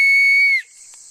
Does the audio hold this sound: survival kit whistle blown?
yes